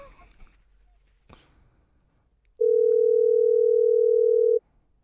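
A telephone call rings out with one steady, loud tone lasting about two seconds, preceded by faint handling noises and a brief knock in a quiet room.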